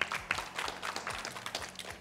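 A studio audience claps on a Russian psychology talk show, steady close applause of moderate loudness.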